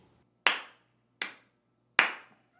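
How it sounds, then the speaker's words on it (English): Three sharp, loud hand claps, evenly spaced with brief silences between them. Close by, with no voices. "Wait, why are we clapping? Stop clapping."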